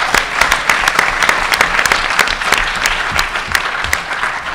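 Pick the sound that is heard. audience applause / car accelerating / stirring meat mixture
audience applause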